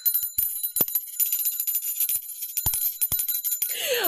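A small bell gives a series of bright, close metallic dings in quick, irregular rhythm over a few seconds, ending with a short jumble of other noise.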